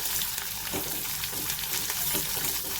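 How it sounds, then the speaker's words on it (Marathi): Onion sautéing with lentils and cumin in a pan, a soft steady sizzle with light scraping stirs at intervals, fairly quiet and close, with no talking. "कांदा छान परतून घ्यायचा आपल्याला"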